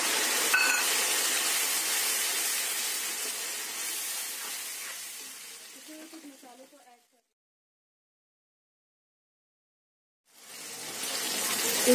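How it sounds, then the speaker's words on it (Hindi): Ground tomato puree poured into golden-brown frying onions in a pan hisses with a loud, bright sizzle that gradually fades. After a few seconds of near silence, the sizzling hiss returns. "हमें ये टमाटर पीस के रखे वो मैं डाल दे रही हूँ।"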